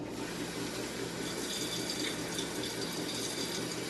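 Water poured carefully through a CPAP machine hose into a bucket, a steady splashing trickle running continuously without pause.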